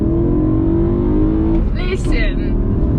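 Manual BMW E92 M3 engine running steadily with a loud, close, continuous droning tone that rises briefly in pitch as it revs; a voice is heard speaking over it near the end.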